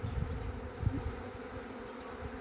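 A small secondary honeybee swarm leaving the hive, a dense continuous droning buzz of many bees, steady and close, with no voices.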